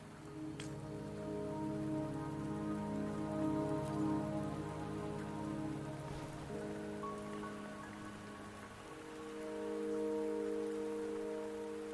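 Steady rain falling in the Wuthering Waves video game on the way to Mount Firmament, a soft even patter with a layer of calm background music and no talking.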